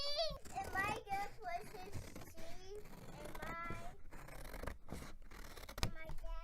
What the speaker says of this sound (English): You want me to cut your alligator out of the paper?